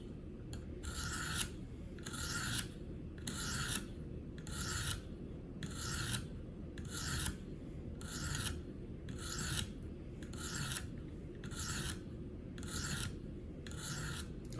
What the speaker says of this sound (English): So I'm going to continue with the 140.